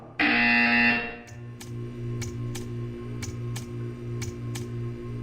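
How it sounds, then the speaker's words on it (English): A loud, harsh electronic buzzer from the video game Portal 2 blares alone for about a second, then gives way to quieter sustained humming tones and a regular pattern of clicking ticks. "You will hear a buzzer."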